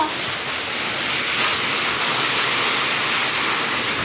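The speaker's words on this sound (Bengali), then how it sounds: "এই প্রথম এত শিলাবৃষ্টি হচ্ছে এখানে নাটোরে আমাদের বাড়িতে" A heavy hailstorm with rain pounds down at a house in Natore, making a dense, unbroken roar of impacts that stays loud and steady throughout, with no voices.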